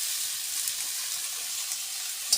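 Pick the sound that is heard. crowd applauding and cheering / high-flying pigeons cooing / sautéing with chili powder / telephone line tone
sautéing with chili powder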